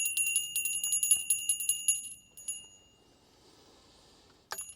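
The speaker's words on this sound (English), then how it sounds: "I'm going to ring this bell." A small bell is struck in a quick, bright, ringing series that slows and fades into a faint lingering shimmer, followed by one last clear strike at the end, with no voices.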